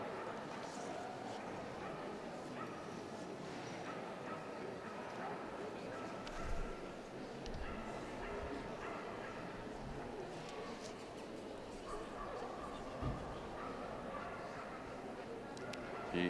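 Dogs barking and yipping amid a constant crowd murmur in a large hall at a championship gundog-group dog show, with scattered barks heard at a distance and people talking throughout.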